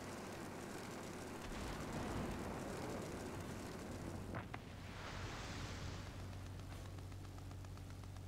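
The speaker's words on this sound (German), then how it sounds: "Flugzeug über die Autobahn, seht ihr das?" An airplane passes over a highway in a truck-driving video game, a broad, steady roar of engine noise and rushing air that swells and holds throughout, faint and distant-sounding beneath constant background rumble.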